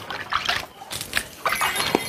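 Water poured from a container onto a patch of soil, giving short splashy trickles and spatters in a few quick bursts, close by and fairly quiet.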